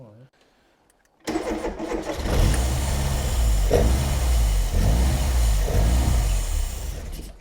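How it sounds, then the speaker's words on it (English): A long-stored old fast Ford barn find cranks and catches, then its engine runs loudly and close, rising and dipping slightly as the throttle is feathered. "It's running on me feathering the throttle."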